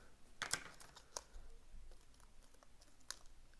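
A model train decoder's packaging is cut open for a new Hornby Ruston locomotive, giving faint, sparse clicks and crinkly snips close by in a quiet room.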